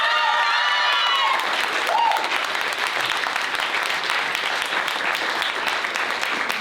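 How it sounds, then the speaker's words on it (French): Audience applauding after a performance at a high school music concert, steady and dense clapping throughout, with a fading sung or instrumental note at the start and faint voices in the crowd. "on peut l'applaudir très fort"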